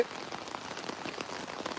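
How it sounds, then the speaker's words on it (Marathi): Heavy monsoon rain pours down in Virar in a dense, continuous hiss, with a steady patter of drops striking a surface. "आता बऱ्यापैकी पावसाने जोर पकडलेला आहे"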